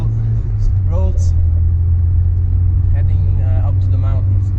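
Nissan Sunny Coupe GTi driving on Swiss mountain roads, heard from inside as a steady low engine drone and road rumble, with someone talking over it.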